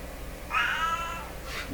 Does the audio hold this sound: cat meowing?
yes